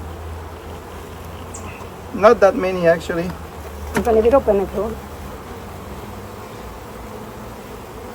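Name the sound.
swarm of bees in a bucket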